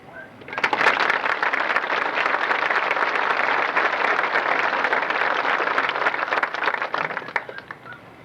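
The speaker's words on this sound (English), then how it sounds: "I would now like to offer both my applause and yours in recognition of their dedication" A crowd claps at a university commencement ceremony, a dense, sustained burst of applause that starts abruptly, holds steady and then tapers off.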